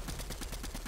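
Rapid gunfire from a weapon in a Fortnite arena match, a quick burst of repeated shots under a second long, steady and fairly loud.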